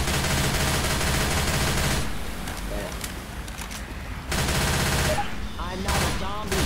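Automatic weapons fire at zombies on the Cold Stream campaign of the Left 4 Dead 2 video game, a dense, loud, continuous rattle of shots that thins briefly in the middle before surging again.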